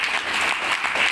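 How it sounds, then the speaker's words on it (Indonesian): Audience clapping in a presentation hall, a dense steady patter of many hands at moderate level with no voices over it. "Yang tepuk tangan percaya"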